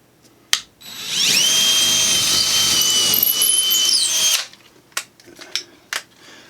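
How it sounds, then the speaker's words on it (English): A power drill whines steadily for a few seconds as it bores a hole for a lag screw on a model railroad shelf bracket, then stops, followed by several sharp knocks and clicks nearby. "then we'll drill it out and lag another one in"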